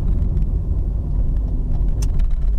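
Car driving through the Roma area of Lusaka, Zambia, with a steady, close engine and road rumble running throughout and a brief brighter hiss near the end.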